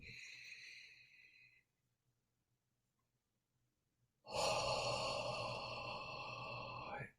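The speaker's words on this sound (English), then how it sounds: "Exhale. You can add your hand into your chest. Exhale. Inhale." Breathing during a guided breathing exercise: a long breath trails off over the first second and a half, then after a few seconds of near silence a louder, fuller breath rushes in close and steady for about three seconds, with no talking.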